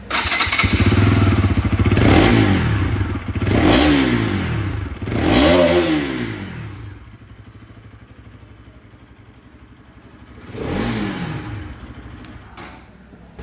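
A Bajaj Pulsar RS200 motorcycle close by, its exhaust roaring through four sharp revs that fall back to a steady idle, then one more blip and a short final pop.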